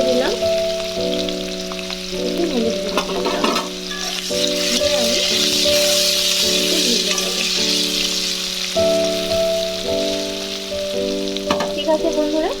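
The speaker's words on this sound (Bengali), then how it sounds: "আমার আলুটা সুন্দর হয়ে ভাজা হয়ে গেছে" Potatoes fry in hot oil for a cauliflower stem curry, a loud, continuous crackling sizzle with bursts of stirring and clinking, while background music with steady tones plays throughout.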